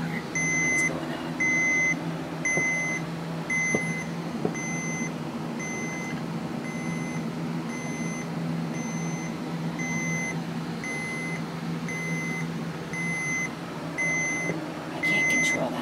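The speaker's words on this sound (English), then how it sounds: "That's the system beeper." A computer's system beeper sounds during a power outage with a regular series of short, evenly spaced high beeps. It repeats steadily over a constant low hum of equipment.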